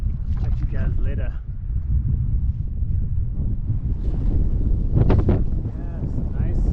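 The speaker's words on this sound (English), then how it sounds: "nice wind gusts going on" Strong wind buffets the microphone in steady gusts by the Snake River, a low rumbling roar with faint water movement and brief sounds over it.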